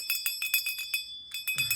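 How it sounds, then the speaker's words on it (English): Bright, metallic bell strikes ring out in a quick irregular cluster of about a dozen hits, close and clear, with a low hum entering at the end. "Bells coming."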